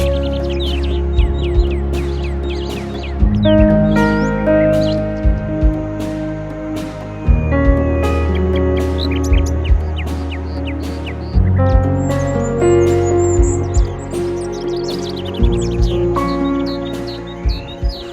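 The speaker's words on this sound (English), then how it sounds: "The babbles of birds and rustle of fallen leaves underfoot greet my ear" Birds in an autumn forest in Washington give quick, bright chirps and tweets that repeat irregularly throughout, heard near and clear over a steady, sustained musical background.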